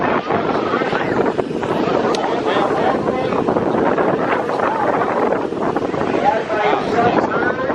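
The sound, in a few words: wind at Santa Monica pier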